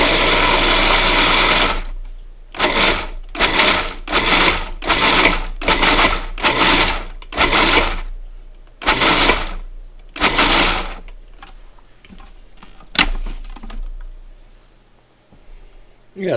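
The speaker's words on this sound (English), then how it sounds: "Now this first half I'm going to process pretty finely, something close to a puree basically." Food processor pureeing fresh tomatoes for gazpacho: a loud continuous whir, then a rapid run of short pulsed bursts, ending with quieter clatter and faint handling sounds.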